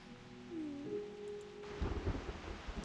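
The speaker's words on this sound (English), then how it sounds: "Enormous sound of rain comes from outside the suitcase." Heavy rain drums outside a suitcase in the game Reverse: 1999, a dense wash of downpour rising after a brief tonal swell, with no one speaking.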